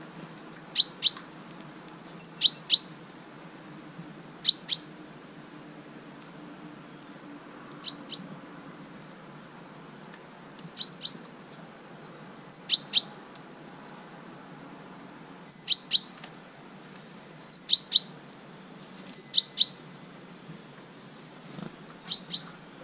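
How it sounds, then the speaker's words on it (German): Tits calling from a garden nest box: repeated short, sharp chirps in quick bursts of two to four, recurring every second or two over faint background ambience. "Da sind schon die Meisen drin."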